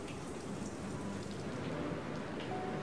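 Steady rain falls during a storm, a dense even hiss of drops on surfaces that stays constant and moderately loud throughout, with no voices.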